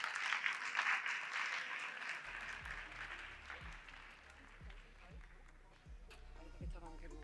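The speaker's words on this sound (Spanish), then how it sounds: "un fuerte aplauso para ellos" Audience applause for guests at a business entrepreneurship event in Ceuta, with a dense wash of clapping fading gradually over several seconds while low thumps and murmured voices come through beneath it.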